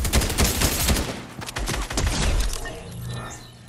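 Rapid bursts of automatic gunfire crackle through a Fortnite match, dense and loud at first, then easing into scattered shots and a lingering mechanical rattle.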